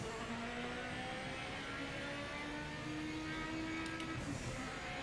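Turbocharged race car engine accelerating in the sim racing game Project Motor Racing, a steady loud whirring drone with rising engine tones throughout, no talk over it.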